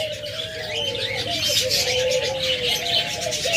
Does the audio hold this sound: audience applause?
no